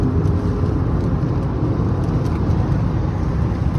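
Road traffic on a street in Bahrain, a loud continuous rumble of passing cars heard close by without a break.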